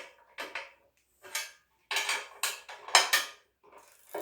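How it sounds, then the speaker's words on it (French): Bolts with washers being tightened to clamp Blocstair stair boxes together, a series of short metallic ratcheting clicks and scrapes in bursts with brief pauses, close by. "on écrase bien les rondelles en serrant"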